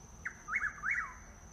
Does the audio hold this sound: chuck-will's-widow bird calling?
yes